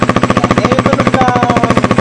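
A KTM Duke 390 fitted with a Remus S-Flow exhaust and silencer revs hard and close, its loud rapid pulsing exhaust beat holding steady.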